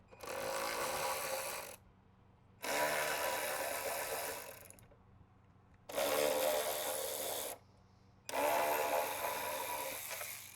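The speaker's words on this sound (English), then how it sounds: "We're going to be using the electric ratchet to go ahead and remove those." Four bursts of an electric ratchet whirring as it backs out 7mm bolts from a Ford Bronco tail light bracket, each loud run lasting one to two seconds, separated by short pauses.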